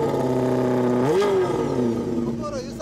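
A 2016 Suzuki GSX1300R Hayabusa motorcycle fitted with an aftermarket exhaust revs up, its steady engine note climbing sharply in one rise and then settling back. It is loud and close.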